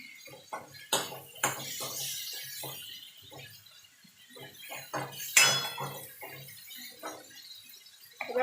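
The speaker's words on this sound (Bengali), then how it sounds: "তো হলুদটা দিয়ে একটুখানি নাড়াচাড়া করে নেব।" Tomato and turmeric being stirred in a cooking pan: a series of sharp metallic clinks and scrapes from the spoon against the pan, irregular and close, fairly quiet, with no talking.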